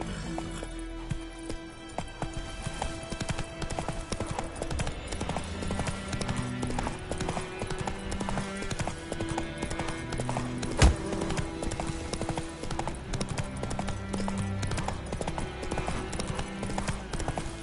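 Hooves of the horse in The Witcher 3 clip-clop at a steady trotting rhythm through the whole stretch, loud and close over game music and ambience.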